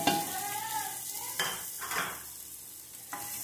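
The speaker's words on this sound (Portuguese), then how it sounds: "Vamos dar uma refogadinha." Chopped onion and garlic sauté in olive oil in a pan, giving a soft, steady sizzle with a few scraping stirs and light utensil knocks against the pan, close by and with no talking.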